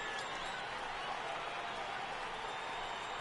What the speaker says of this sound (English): Look at this crowd. They want Reggie to hit a 3rd one.